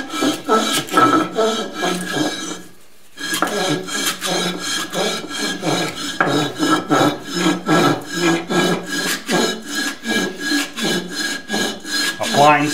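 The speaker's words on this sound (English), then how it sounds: "Back to lapping, all that good stuff." A Grizzly G0776 lathe tailstock is lapped by hand, a loud close rhythmic rasping rub in steady back-and-forth strokes, with one short pause early on.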